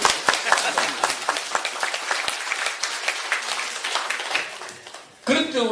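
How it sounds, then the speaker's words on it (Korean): An audience at a Won Buddhist temple talk in Masan claps in a sustained round of applause, dense and steady, tapering off before a voice begins speaking at the end. "박수."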